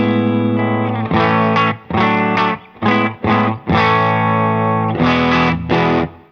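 Electric guitar played through a tube power amp with the JangleMaster pedal off, loud overdriven chords in a rhythmic pattern of short stabs and longer sustained strums, alone.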